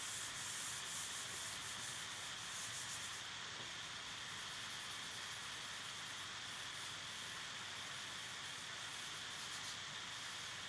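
A hand rubs steadily across a large drawing on paper to blend the shading, a continuous soft, hissy scraping that runs close up throughout.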